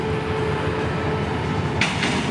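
Passenger train 31 Thaksinarath, hauled by locomotive 4137, arriving at Bang Sue station: a steady, close rumble of rolling wheels and carriages, with a brief hiss of air near the end.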